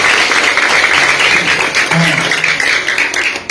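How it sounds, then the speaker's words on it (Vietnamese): A church congregation claps for a Vietnamese Catholic priest, a dense round of applause that carries through while voices speak over it. "các con cho cha một tràng pháo tay để chúng ta chào nhau nhé"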